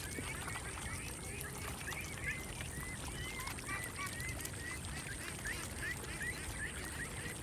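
Ducks forage on a farm's harvested field, giving faint, scattered quacks and chatter at a distance over a soft, steady ambient background.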